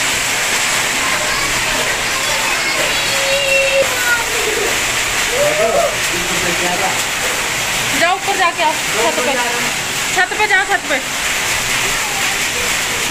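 Heavy rain mixed with falling hailstones pours down as a constant hissing wash, while people speak over it and a few brief sharper sounds poke through near the end.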